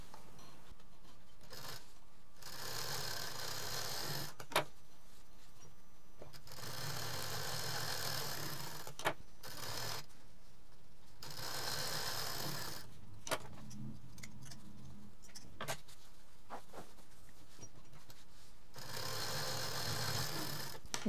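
A sewing machine stitches a zip onto a fabric pencil pouch in repeated close runs of steady whirring, broken by short pauses and occasional clicks between bursts.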